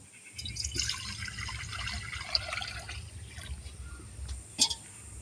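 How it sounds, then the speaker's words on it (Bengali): Water poured into a kadai set on a lit stove, heard as a steady close splashing and trickling pour that runs for several seconds with a few louder drips and splashes near the end. "কড়ার মধ্যে জল দিয়ে দিচ্ছি"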